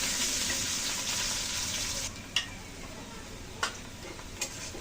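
Ginger and cumin paste goes into chopped onions frying in a pan. A loud, close sizzle hisses, then softens to a quieter simmer marked by three sharp clicks.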